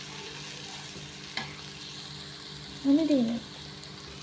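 Fish and greens fry in a pan with a little turmeric as they are stirred: a low, steady sizzle under a quiet voice, with a brief clunk and a short scraping stir of the spoon near the end.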